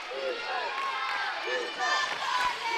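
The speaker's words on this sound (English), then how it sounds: "the crowd is now fired up here at the Carlin Lynch Activity Center. You can hear them behind us" A high school boys basketball crowd at the Carlin Lynch Activity Center, Dartmouth vs Middleborough, cheers and yells in a steady roar. Shouted voices rise above it throughout.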